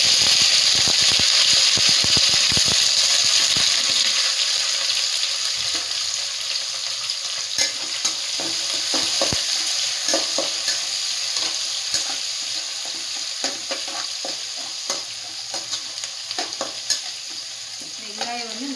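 Chopped onions hit hot oil with popped mustard seeds in a pan and sizzle loudly while a spoon scrapes and stirs, the frying hiss gradually settling into a softer sizzle broken by clinking stirs.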